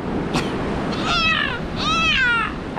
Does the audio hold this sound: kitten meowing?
yes